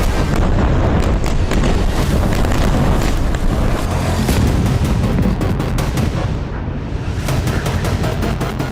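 Rocket strikes explode on a Hamas command centre in Khan Younis during a night attack. Loud booming blasts and crackling gunfire-like bursts continue densely throughout, with no speech.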